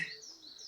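Faint birdsong drifts in from a distance: thin, sustained high chirps and tweets in a quiet room.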